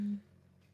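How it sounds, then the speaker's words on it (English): A phone notification beep, a single short electronic tone cut off almost at once and followed by quiet, fairly faint in the background. "you're getting a notification"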